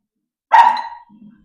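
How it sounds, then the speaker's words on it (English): A single sharp dog bark rings out from somewhere below in a cafe, slightly distant and roomy, followed by a softer low grumble or whine trailing after it. "There's a dog downstairs"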